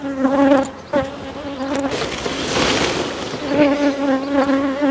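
A dense honeybee swarm buzzes loudly and continuously up close as it is transferred into a nucleus hive, the drone wavering in pitch with brief handling knocks mixed in.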